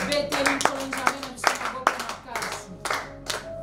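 A church prayer congregation clapping in irregular bursts of sharp, close hand claps mixed with raised voices, the claps clustered and uneven rather than in steady rhythm.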